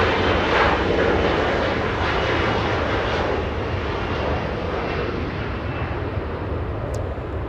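A jet airliner arriving at LAX roars overhead very loudly, a dense broadband rumble that holds strong and slowly eases over several seconds, with no talk.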